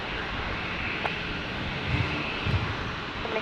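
A plane taking off from runway 01 left at Brisbane Airport, a broad, steady roar of engines heard from a distance, with faint brief clicks over it and no talk.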